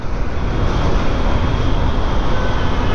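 A train runs past alongside on a hot, sweltering day, filling the air with a loud, steady rumble of wheels and cars that holds at a constant level without any break.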